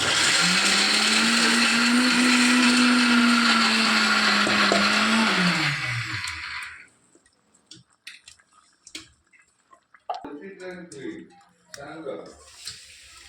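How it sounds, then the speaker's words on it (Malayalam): A mixer grinder grinds onion with a loud, steady, high whir for about six seconds, then winds down and stops, leaving quieter scattered clicks and clatter. "ഉള്ളിയും ചുവന്ന കളറായി അരച്ചെടുക്കുക"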